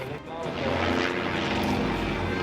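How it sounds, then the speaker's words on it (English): A biplane engine roars steadily at an air show as the plane spirals downward out of control, the loud, continuous drone running under a man's speech. "a biplane crashed during the Kansas City Air Show after the plane appeared unable to get out of a downward"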